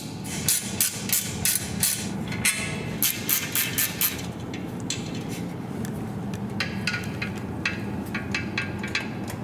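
Sharp metallic clinks and taps in quick clusters as a tool works loose a bolt on an electric bike's brake caliper, close up and fairly loud, with a steady low rumble underneath.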